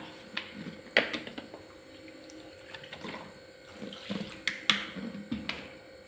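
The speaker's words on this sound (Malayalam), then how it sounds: "ഇനി ഇതിലേക്ക് ഒന്നര കപ്പ് വിനാഗിരി ചേർത്ത് കൊടുക്കാം" Vinegar is poured into a pan for beef pickle, making a splashing, gurgling liquid pour with uneven surges and a few sharp clinks, close by.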